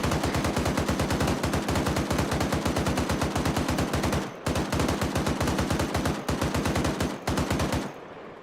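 Sustained automatic gunfire from a military video game, loud and close, rattling in rapid continuous bursts with two brief pauses before a final trailing burst.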